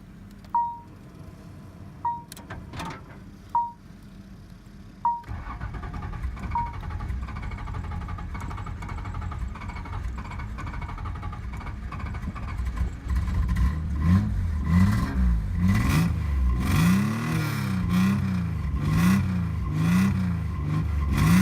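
A few sharp beeps, then a cold Nissan 300ZX engine cranks over and catches, settling into a loud, uneven idle with rising revs toward the end.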